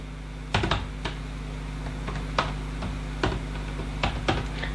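Keys clack on a computer keyboard as a username and password are entered during a Windows 10 drive setup, a handful of sharp, unevenly spaced keystrokes over a faint steady electrical hum, with no talking.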